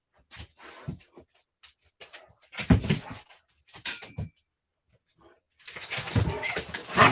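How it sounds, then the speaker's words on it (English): Dogs play behind the speaker, making bursts of scuffling, jangling and yelping noise that come and go, with a loud stretch at the end and quiet gaps between. "Dogs are behind me playing, if making noise."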